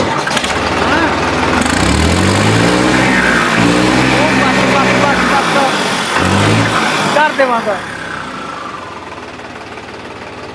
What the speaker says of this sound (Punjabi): ਇਹਨੂੰ ਸਟਾਰਟ ਕਰੀ ਵੀਰੇ ਇਹਦੀ ਵੜਕ ਦੇਖਦੇ ਆ